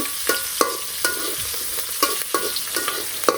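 Black gram dal and green chillies frying in oil, a soft sizzle broken by a string of sharp scrapes and clinks of a spatula stirring in the pan, with no talking.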